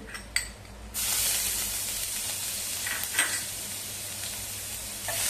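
Ginger garlic paste goes into hot oil with bloomed cumin and sets off a sudden loud, steady sizzle. The frying hiss stays constant and close, with a few faint stirring scrapes and no voice.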